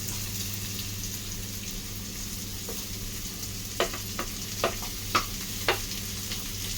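Sliced onions fry in a pan for pepper chicken parts, giving a steady soft sizzle broken by several sharp pops and scraping stirs toward the end.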